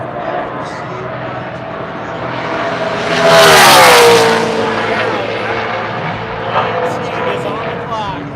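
A NASCAR Xfinity car on its warm-up lap at Charlotte Motor Speedway, engine drone rising as it passes close by, peaking loudly and then falling away, with a commentator talking over it.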